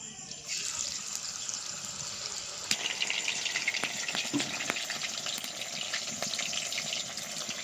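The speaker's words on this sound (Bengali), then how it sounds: "এবার পনিরগুলো ভাজবো। তার জন্য কড়াইতে দিয়ে দিচ্ছি সাদা তেল" Paneer frying in white oil in a wok gives a steady, fairly quiet sizzle that starts abruptly and holds evenly throughout, with a few small pops, no talk.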